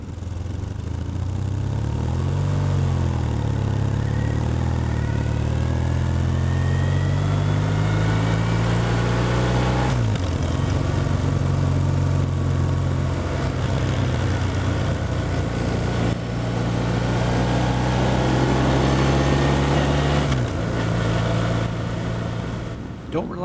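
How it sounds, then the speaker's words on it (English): A BMW R1150R Rockster motorcycle engine with a tame exhaust idles and revs in slow, rising sweeps, settling back between throttle pulls; the exhaust note stays fairly mellow and close. "this BMW R1150R Rockster with a pretty tame exhaust"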